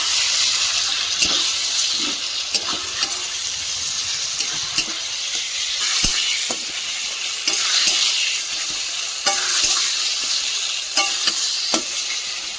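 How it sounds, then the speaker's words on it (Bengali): Mashed eggplant and tomato are stir-fried in a pan, giving a loud, continuous sizzling hiss punctuated by regular soft taps and scrapes of the spoon, with no speech. "এই যে বেগুন টমেটো সব ঘেটে রেখেছি সেটা কিন্তু দিয়ে দিচ্ছি। এবার একসঙ্গে খুব ভালো করে কষিয়ে নেব।"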